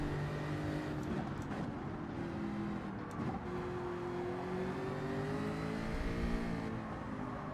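Race car engine in Gran Turismo 7, a steady droning whine that rises and falls through gear shifts, moderately loud and alone with no talk.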